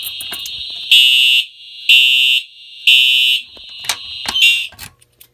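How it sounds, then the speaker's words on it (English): A fire alarm system test, set off from a manual pull station, gives three long loud piercing horn blasts in a steady temporal pattern, followed by shorter bursts as it cuts off, close and clear. "we're going to go ahead and activate the pulse station first"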